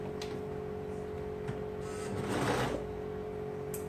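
A sewing machine stitches a tank top side seam from armhole to hem, a quiet steady motor whir with a brief louder burst of stitching near the end, heard alone without talk.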